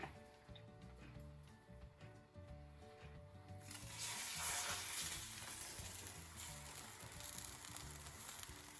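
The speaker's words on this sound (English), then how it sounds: "Get the bread and dip it into the mixture and put it into the frying pan" Steady sizzling of French toast frying in a pan, growing louder and brighter partway through, with faint clinks beneath and no talking.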